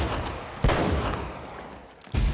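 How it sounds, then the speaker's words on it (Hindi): Bursts of rapid gunfire in Uncharted: Drake's Fortune, loud and close, with a short lull between the two volleys. "सीधा ही गोलियां बरसा दी अंदर"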